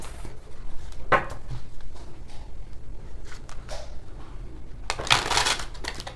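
Tarot cards are shuffled in quick papery bursts, with soft riffles and rustles and a louder flurry toward the end, close and without talk.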